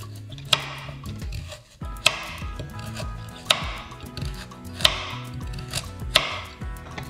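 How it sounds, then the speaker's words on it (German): A knife chopping a carrot into smaller pieces on a cutting board: five or six sharp, evenly spaced thunks with softer rustles and board knocks between them, close by with no speech. "Und die Karotte schneide ich auch in kleinere Stücke."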